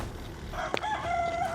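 A rooster crows once at a moderate distance, a short harmonic call rising over steady outdoor background noise.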